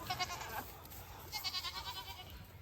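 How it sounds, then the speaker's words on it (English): Nigerian dwarf and mini Nubian goats bleating on a small homestead farm, several wavering calls in a row, fairly close, over steady outdoor background noise. "We've got 4 Nigerian dwarf goats and 1 mini Nubian."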